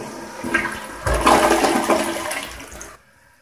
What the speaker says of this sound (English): this will just be a regular quick flush